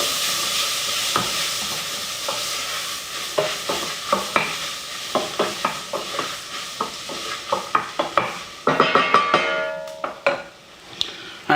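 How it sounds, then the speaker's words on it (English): Corn tossed into a pan with translucent onions and bacon for a chowder, stirred with irregular scraping and clattering over a steady frying sizzle and hiss, growing busier and louder toward the end. "I'm going to go ahead and add my corn right on in"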